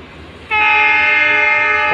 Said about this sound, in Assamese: দুখন ট্ৰেইন লগত আহিছে